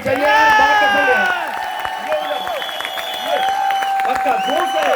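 An audience claps at a millionaire training seminar in a hall. Continuous loud applause mixes with cheering voices and whoops throughout.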